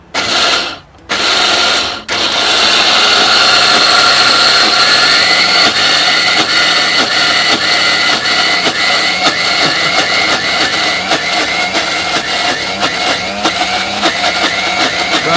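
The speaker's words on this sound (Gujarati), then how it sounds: "હવે આપણે મિક્સરમાં નાખી અને એને પીસી દેવું" A mixer grinder grinding soaked lentils with a little water starts with a couple of short bursts, then runs loud and steady, whirring and grinding continuously.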